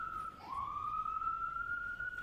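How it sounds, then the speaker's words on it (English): An emergency siren passing outside a courtroom during a trial, a single sustained wailing tone with a slight pitch sweep, moderately distant over a low background hum. "wait until the sirens pass"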